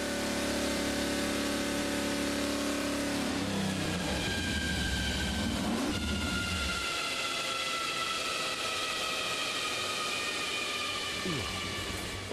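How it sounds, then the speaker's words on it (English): A Lola F5000 race car engine runs steadily and loud, with a sustained roar and a shift in tone partway through, no voices over it. "Well, it sounds like a race car."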